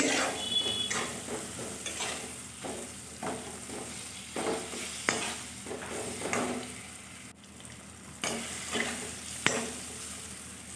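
Turmeric and green chilli spice mix frying in a pan, giving a steady close sizzle broken by repeated stirring and scraping strokes, with no talk.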